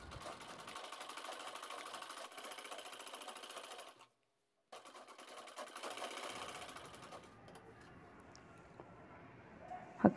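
A sewing machine stitches two round fabric bag pieces together, running in steady fast bursts with a brief pause midway and then continuing; the whirring is close and clear with no talk.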